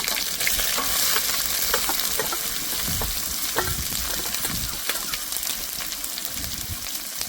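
Crushed garlic and chopped onion go into hot oil already fried with cardamom and dried chilli, giving a close, continuous sizzle with scattered crackles and a few stirring scrapes.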